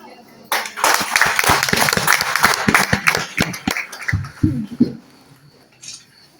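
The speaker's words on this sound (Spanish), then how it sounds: "El aplauso." Crowd clapping and cheering fills the room, dense and loud, with a brief lull and a few scattered voices near the end.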